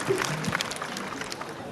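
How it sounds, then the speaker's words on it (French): Brief burst of audience applause at a public gathering, scattered clapping under a murmur of crowd noise, moderately loud and short. "Ça s'applaudit."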